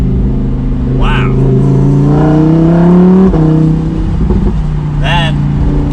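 A 2020 Lamborghini Huracan EVO Spider's engine pulls hard, its loud exhaust note climbing steadily in pitch before dropping back. Short bursts of talk come through over the engine.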